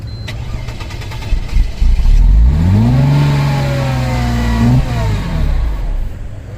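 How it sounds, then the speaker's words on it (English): A wrecked supercharged Mercedes-AMG fires up and revs, the engine note climbing and then holding a steady, loud exhaust drone for a couple of seconds before dropping back to idle, close to the car. "Give it a little gas. Oh, Go ahead. Yeah, let's hear that exhaust."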